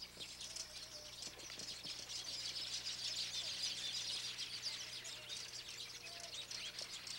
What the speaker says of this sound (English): You can hear them chirping away.